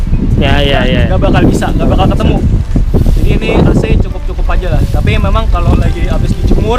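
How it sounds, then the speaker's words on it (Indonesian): Strong gusts of wind buffet the microphone outdoors beside a Honda Civic Genio, rumbling loudly and unevenly beneath someone talking in Indonesian throughout. "sorry ya angin suaranya kencang ya"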